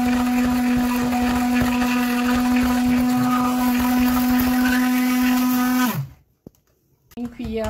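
An electric mixer whips a glass of milk for a cake, a loud steady whirring drone that runs for about six seconds, then winds down and stops, leaving near silence.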